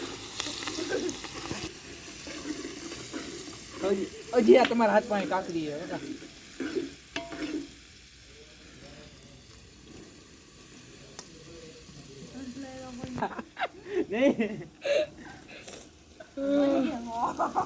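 Potatoes sizzle in a pan while a spoon stirs and scrapes them, cooked outdoors at a farm during a night camp. The frying comes in uneven bursts, with people talking close by throughout.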